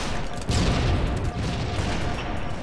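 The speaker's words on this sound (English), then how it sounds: "that grenade just went crazy" A grenade explosion and gunfire in the video game Halo 2, heard as a booming low-heavy burst about half a second in, with rattling shots and rumble continuing loudly to the end.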